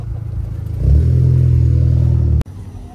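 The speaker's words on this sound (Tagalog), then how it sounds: "Daming sasakyan, pare." A car engine revs hard on a busy street full of passing traffic, a loud, sustained low roar that holds for over a second after an initial idle, then cuts off abruptly.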